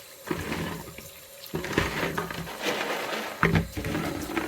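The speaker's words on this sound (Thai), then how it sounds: "ล้างในน้ำไหลแล้วก็" Chestnuts rinsed under a running tap splash and trickle in bursts as they are handled in the stream, close and moderately loud, with no talk.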